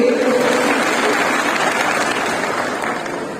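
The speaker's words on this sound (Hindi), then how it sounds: "एक बार बबलू जी की पूरी टीम के लिए जोरदार तालियों से" Crowd at a Hindu Jagran Akhand Bharat rally in Nimbahera claps for a team, a broad sustained wash of applause that holds steady and then fades slightly toward the end.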